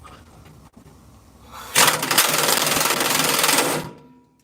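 An impact wrench hammers at a stuck bolt during a shock absorber change, a loud steady rattling burst of about two seconds that starts abruptly after quieter background noise and then cuts off.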